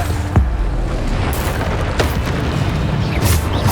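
Booming magical blasts from the Bombarda explosion spell in Hogwarts Legacy, a couple of sharp bursts over continuous dense game combat noise, loud and close.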